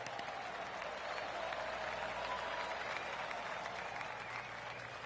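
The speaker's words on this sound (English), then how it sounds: "That deserves a golf clap." Steady, even golf clap applause from a crowd in a PGA Tour 2K26 golf video game, sustained throughout at a moderate level with no talking.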